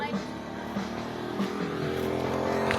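A motorcycle engine runs steadily close by with a low, even drone and a few small rises in pitch, while voices talk faintly over it.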